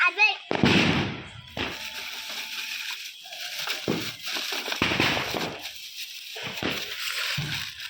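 Diwali firecrackers bursting in a village: several sharp blasts and crackles at irregular intervals, fairly close, with people and children talking between and over the bangs.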